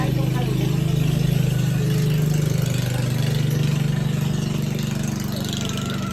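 Motorboat engines drone steadily on the water, a loud, close low hum that holds for several seconds with a slight fade, with people talking over it.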